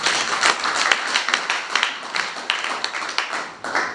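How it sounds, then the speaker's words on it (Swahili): A church congregation clapping together during a Thanksgiving service, dense overlapping handclaps in a steady rapid rhythm filling the room, loud and close, with no talk. "Tupigie Bwana makofi mazuri"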